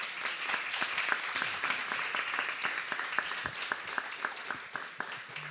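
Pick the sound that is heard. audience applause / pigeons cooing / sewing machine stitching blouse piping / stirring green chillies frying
audience applause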